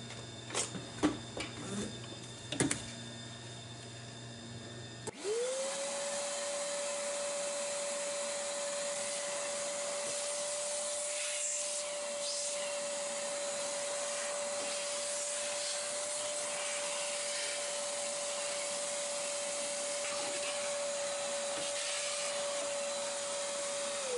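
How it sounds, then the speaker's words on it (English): A shop vac in a small workshop starts up after a few seconds of handling clatter and runs steadily with a loud, constant whine and rushing air to the end, without talk. "Alright, shop vac time."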